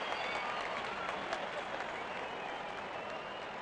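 A cricket stadium crowd at an IPL final between RCB and GT applauds a six, with opposing fans joining in; a dense, steady wash of clapping holds at moderate level throughout.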